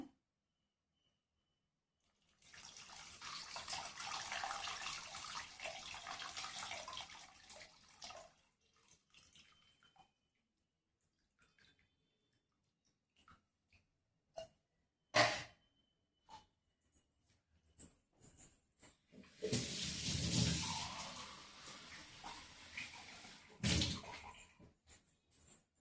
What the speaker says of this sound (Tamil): புளி தண்ணி ஆட் பண்ண போகிறேன்.